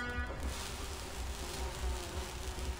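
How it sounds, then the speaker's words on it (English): A dense swarm of bumblebees drones steadily in the Grim Fandango video game, a continuous buzzing hum with a low rumble underneath, close and constant without a break. "Looks like a bunch of bumblebees."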